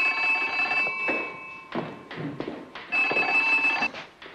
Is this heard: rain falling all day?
no